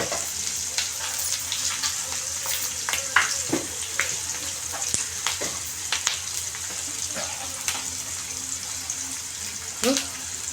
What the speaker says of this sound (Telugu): ఎర్రగడ్డలు బిరుక్కుని ఎర్రగేగుతాయి కొంచెం మగ్గలిద్దాం